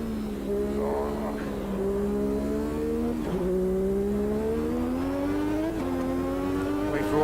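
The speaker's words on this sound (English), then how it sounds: "Lovely raspy V6 noise." V6 turbo Formula One car in the racing game Automobilista 2, its raspy engine note holding a strong steady drone that climbs gradually, dips briefly at a shift, then climbs again, loud and alone.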